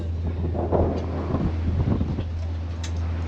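Wind buffets the microphone on the open deck of a cruise boat on Elliott Bay in Seattle, a steady low roar with gusty swells and a faint voice in the background.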